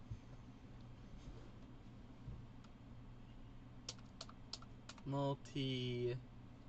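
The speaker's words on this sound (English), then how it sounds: "I was typing on the wrong keyboard." Typing on a computer keyboard, a short run of quick clicky keystrokes near the end, close and fairly quiet, followed by brief speech over low background hum.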